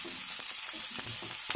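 Potatoes and drumstick leaves fry in a pan with a dense, continuous sizzle and crackle, close and fairly loud, alone with no voices.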